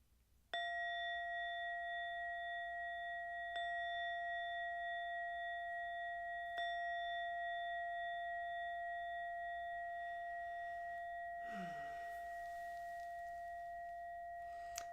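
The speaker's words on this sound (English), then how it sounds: "until the final bell rings" A meditation bell is struck three times, about three seconds apart, each strike adding to a long, pure, resonant ring that slowly decays; a brief soft rustle appears near the end.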